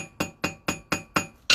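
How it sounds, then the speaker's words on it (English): A blacksmith's hammer strikes red-hot steel on an anvil, knocking off scale while forging a fire striker. Six evenly spaced, ringing metallic blows land close and loud, each decaying quickly before the next. "It's just a place for you to have one side to flatten, and of course your top with your hammer doing the other."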